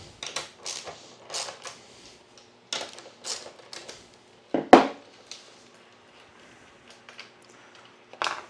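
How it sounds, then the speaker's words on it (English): A bolt on a PowerQueen LiFePo4 12V 200Ah battery terminal is being loosened. Close, irregular metallic clicks and taps come in short bursts, with one sharper knock in the middle. "So I'll loosen up this a little bit."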